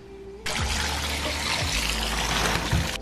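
Water runs steadily over hair while shampoo is rinsed out. The rush starts abruptly and holds as a loud, continuous close splashing, then cuts off at the end.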